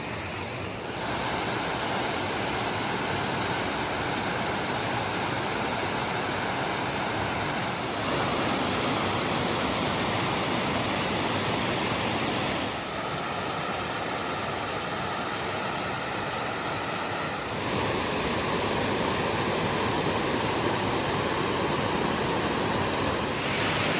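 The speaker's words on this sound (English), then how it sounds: "Pretty cool spot, nice waterfalls." Steady, dense roar of a forest waterfall, loud and unbroken throughout, with slight shifts in intensity every few seconds and no voices.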